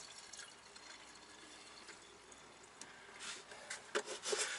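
Fuel poured into the tank of a 3800 chainsaw, a faint liquid trickle with soft rubbing and handling noises close by, growing slightly louder and more uneven toward the end.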